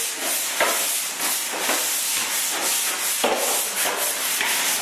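Hand sanding of drywall joint compound on angles and butt joints, a continuous close, rough scratchy hiss with rhythmic back-and-forth strokes, no talking.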